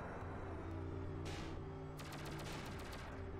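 Distant gunfire in the PlayStation shooter Shockwave Assault: a short burst, then a rapid string of faint, evenly spaced shots over a low steady hum, with no voices.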